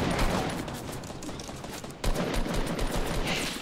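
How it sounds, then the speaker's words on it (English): Gunfire in the Fortnite video game, with rapid, dense cracking shots that run continuously through the clip with a brief dip midway, loud and close. "Watch out, we're getting sniped from behind, too."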